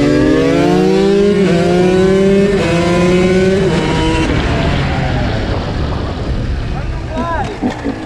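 KTM dirt bike engine revving hard while accelerating out of a turn, loud and close with rising harmonic whine, voices talking over it.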